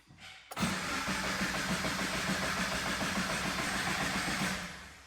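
A Toyota GT86/Subaru BRZ engine cranks with ignition and injectors cut, so it turns over without firing. After a short click it churns steadily and loudly for about four and a half seconds, then stops.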